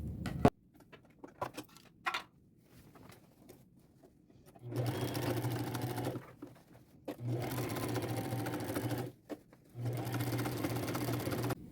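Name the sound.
sewing machine top stitching jeans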